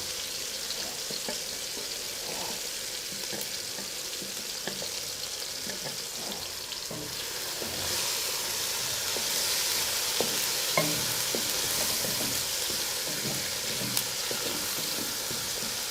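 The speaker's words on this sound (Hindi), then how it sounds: "इन सब चीज़ों को फ्राई करने के बाद" Onions and spices fry and sizzle steadily in a pan for cauliflower pulao, a dense continuous hiss with occasional stirring scrapes, close and fairly loud with no talking.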